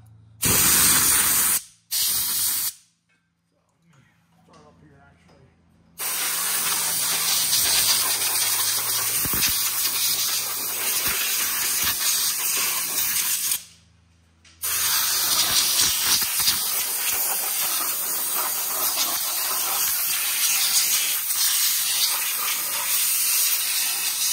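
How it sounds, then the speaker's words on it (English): Compressed air blasts water off a sprint car engine around the spark plugs after a dirt track race, loud hissing bursts broken by short pauses, then a long sustained spray. "you want to be able to get in there and blow the water out, maybe around the spark plug"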